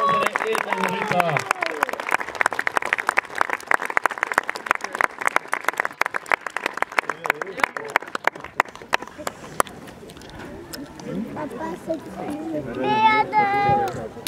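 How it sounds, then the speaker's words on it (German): An outdoor crowd at a knights' tournament at Riegersburg claps in bursts of sharp, rapid applause that fade out, and an announcer's voice comes over a loudspeaker before and after. "Händegeklapper und Applaus für unsere edlen Ritter."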